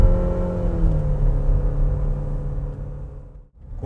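A 2021 Renault Duster with a CVT gearbox accelerating from a standstill, a loud low engine drone rising in pitch, then easing off and dipping briefly as the shift comes near 5,400 RPM.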